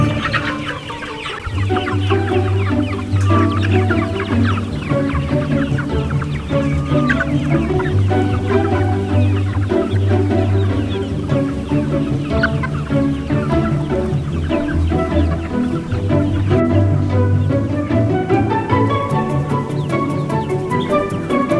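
Free-range chickens and guinea fowl cluck and call steadily in a farmyard, several birds close by with an occasional crow, over a constant low hum and busy background noise.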